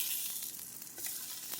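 Zucchini slices sizzle steadily in a hot pan, a continuous close hiss and crackle with small pops throughout and no voices.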